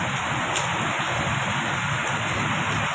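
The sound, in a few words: rain falling outside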